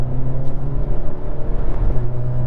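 2021 Hyundai Veloster N with a dual-clutch automatic, driven in N mode: a loud, steady engine drone and rumble heard from inside the cabin, continuous and unbroken, with no talking.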